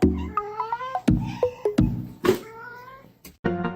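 A kitten meows repeatedly, several short, clear, high calls in a row close by, with brief gaps between them.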